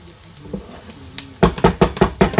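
Shallots sizzle loudly in a hot pan with chicken escalope while being stirred, a quiet frying hiss swelling into a run of rhythmic, close scraping stirs with crackling spatter.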